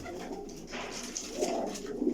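A Lakha Nankane-wala pigeon coos softly and close by, a low, throaty burbling call rising over about two seconds.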